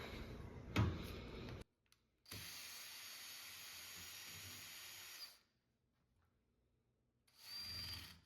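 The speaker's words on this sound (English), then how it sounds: "So we'll get our drill." A power drill whirs in several bursts while taking apart a sectional couch, a short one, a long steady run of about three seconds, then another brief spin, with a sharp click early on.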